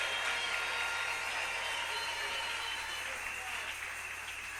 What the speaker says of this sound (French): Donnez une main d'acclamation pour Jésus.